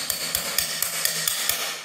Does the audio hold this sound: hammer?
yes